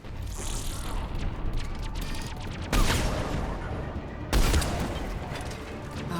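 Bursts of video game gunfire crack out in a dense fusillade, with two heavier blasts landing a couple of seconds apart amid rattling mechanical noise.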